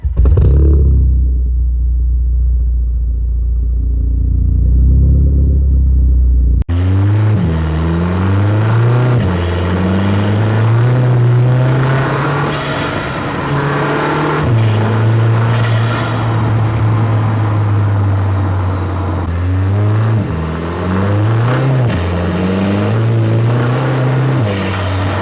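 A Volkswagen-group EA888 Gen3B turbo engine with its turbo muffler deleted revs loudly and close, a low steady hum giving way to repeated rising and falling throttle blips, with no talking.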